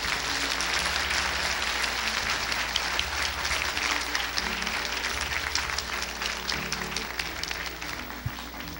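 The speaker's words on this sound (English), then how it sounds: "Really give the Lord a good clap offering." Church congregation clapping at a Sunday evening service, sustained dense applause filling the room at steady loudness with a low hum underneath, easing slightly toward the end.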